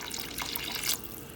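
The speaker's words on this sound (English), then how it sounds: "I'm gonna add a little bit of water, like the same can full of the tomato sauce" Water poured from a tomato sauce can into a pot of sauce on the stove, a steady close splashing stream with no talk.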